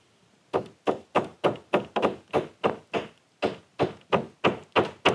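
Steady, evenly spaced taps, about fifteen of them, drive a plastic wall anchor flush into a wall, with a short pause partway through, close and moderately loud.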